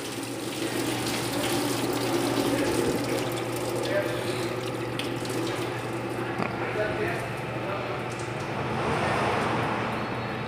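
Coolant drains and splashes steadily as the water pump is removed from a 2008/2009 Ford Fox 1.6 engine, a continuous rushing water sound with background hum throughout.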